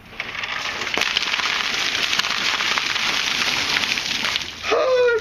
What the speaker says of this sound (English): the guy that's about to pour the ice on my head